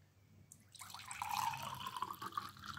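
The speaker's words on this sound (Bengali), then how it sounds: "পানিটা ঢেলে নিই" Water pours into a filter jug after a short quiet start, with a rising gurgle and bubbling as the vessel fills.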